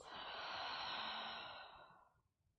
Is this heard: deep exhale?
yes